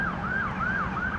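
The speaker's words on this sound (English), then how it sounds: "holy sirens again" A wailing emergency-vehicle siren sweeps steadily up and down in a repeating cycle, fairly prominent over low traffic rumble, with no talking.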